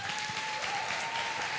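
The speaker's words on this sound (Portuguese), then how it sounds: "Eu quero que você louve a Deus, aplaudindo ao Senhor por essas pessoas." A church congregation breaks into loud, sustained applause in praise, a dense, steady wash of many hands clapping close by, with a thin steady tone ringing underneath.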